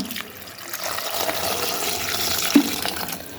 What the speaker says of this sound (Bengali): পরিমাণ মতো জল দিয়ে দিলাম।